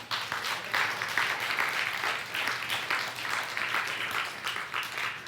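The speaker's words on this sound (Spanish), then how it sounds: "Dale un aplauso al Señor." A church congregation at a worship service claps together in a steady, fairly soft round of applause that continues evenly for several seconds, with a low hum beneath it.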